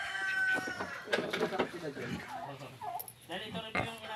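Chickens and a rooster on a farm, with dog-like and fowl calls scattered through a busy outdoor mix, close and fairly loud, with people talking nearby.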